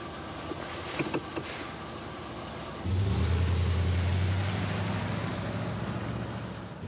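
A car engine turns over and catches, then settles into a steady, loud low rumble that keeps running. Before it starts there are a few faint clicks and rustles.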